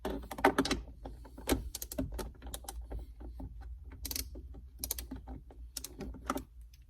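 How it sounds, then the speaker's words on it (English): A 10 mm socket wrench on an extension works loose a car mirror bolt, giving quiet, irregular ratcheting clicks and small metallic taps close by with no talking. "Next thing you're going to need is a 10 millimeter with an extension."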